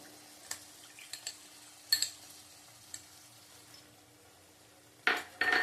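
Curry with tomato being stir-fried in a pan, heard as scattered spoon clinks and scrapes against the metal over a faint sizzle, ending in a louder burst of scraping and frying near the mic, with no talk.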